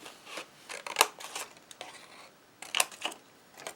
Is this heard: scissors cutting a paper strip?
yes